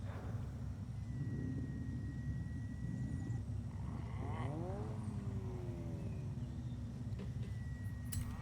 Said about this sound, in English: round 2 in the S1 with quattro all-wheel drive